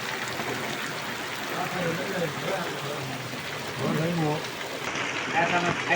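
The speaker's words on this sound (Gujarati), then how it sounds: "અમારા ગામ વરસાદ આવે છે" Rain pouring steadily over a village, a dense broadband hiss of drops on surfaces that stays loud throughout, with a voice murmuring faintly underneath.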